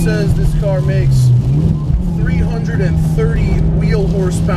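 Close, continuous engine drone from a modified Mitsubishi Evo X making about 330 wheel horsepower as it slides around a wet race track, the pitch dipping and rising briefly, with someone speaking over it.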